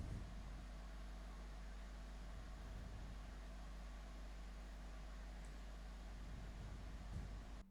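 An AC unit runs across the room as a steady, faint broadband hum with a constant low drone, unbroken throughout and with no other sounds.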